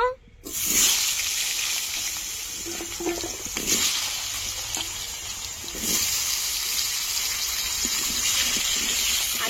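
Potatoes tipped into hot oil in a pan set off a sudden loud, sustained sizzle that roars on with uneven surges for several seconds.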